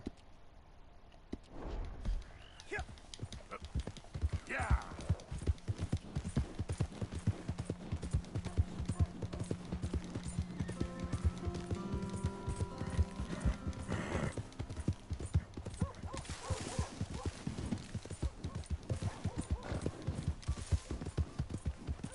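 Fast, rhythmic hoofbeats of a galloping horse in a video game, continuous and close, with a whinny partway through and some game-like background noise.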